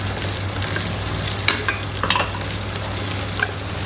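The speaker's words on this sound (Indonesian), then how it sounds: "Kita tumis bawang merah." Shallots sizzle steadily in hot cooking oil, a constant crackling fry with occasional louder pops and the scrape of stirring.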